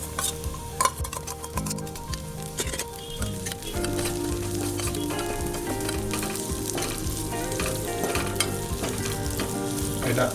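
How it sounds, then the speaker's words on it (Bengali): Onions frying in a pan for a restaurant-style chilli paneer, a loud, steady sizzle lasting throughout with occasional clinks and stirring of a utensil against the pan, no voices. "এটা আমি 1 মিনিটের মতন ভাজবো"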